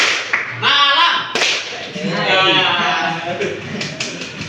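Classroom of students clapping in a concentration clapping game, bursts of rhythmic claps alternating with lively voices and chatter throughout.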